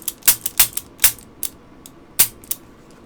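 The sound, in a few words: Smith & Wesson Airweight 38 Special revolver trigger pull clicking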